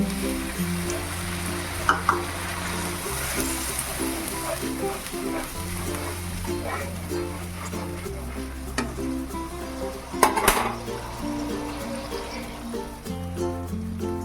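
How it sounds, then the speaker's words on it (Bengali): Hot water is poured into a sizzling mustard and mango masala in a pan for a pabda fish curry. A steady close frying hiss continues with stirring and a brief louder splash near the end, while music plays underneath. "দেখো মশলাটা আমার খুব ভালো করে নাড়াচাড়া করা হয়ে গেছে এবার আমি দিয়ে দিচ্ছি জল"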